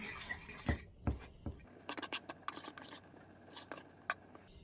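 A spoon stirs onion powder in a dish, giving a few sharp clinks and scrapes against the dish, close and fairly quiet, with light rubbing between the taps.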